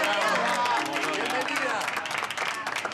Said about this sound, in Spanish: Sí, otro aplauso obvio.